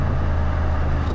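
A 2023 Audi RS7 Performance V8 engine and exhaust, a loud, steady, deep rumble held close for a brief moment with no break.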